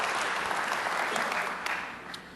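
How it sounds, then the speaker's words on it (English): Conference audience at a technical talk breaking into applause, a wash of many hands clapping, steady and somewhat distant, filling the room throughout. "By applause, please."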